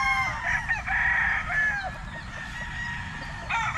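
A national banded stag rooster being prepared for a stag derby crows loudly close by, a long strained cock-a-doodle-doo with a second crow starting at the end.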